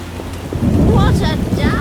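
Heavy rain pours down with rolling thunder in The Witcher video game, a loud, steady wash of storm noise that builds after the first half second, with a voice faintly over part of it.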